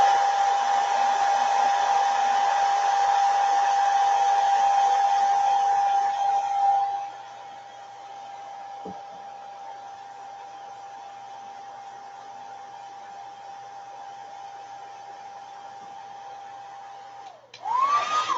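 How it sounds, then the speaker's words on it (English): A hair dryer hums steadily on a low setting with a constant tonal whine, loud at first, then quieter and continuous until a brief shift near the end. "My dryer on low."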